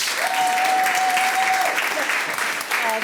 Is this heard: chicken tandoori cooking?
no